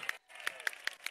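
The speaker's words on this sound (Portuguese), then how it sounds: "Uma salva de palmas para Neto!" An audience applauds at a live stage event, brisk close clapping that fills the moment, briefly dips, then resumes with sharp individual claps standing out.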